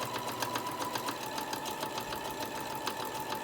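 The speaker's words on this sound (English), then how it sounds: "My sewing machine, I've had it for probably 4 years, and it is a Singer Modern Quilter." Singer Modern Quilter sewing machine stitching a small tote, a steady fast mechanical whir with regular needle ticks and a faint hum, fairly quiet and close, no voices.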